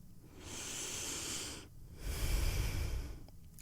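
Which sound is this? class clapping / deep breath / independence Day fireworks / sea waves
deep breath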